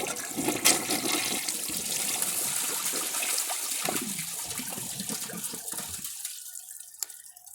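A 1974 American Standard Cadet toilet flushes with a dish towel in a grocery bag in the bowl: a loud rushing swirl of water that drains and gurgles, then fades to a quiet trickle, close, with no talk.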